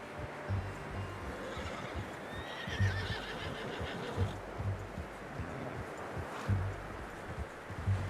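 A horse whinnies loudly outdoors, its high quavering neigh rising over a background of hooves clip-clopping in a loose uneven rhythm, with rustling around it.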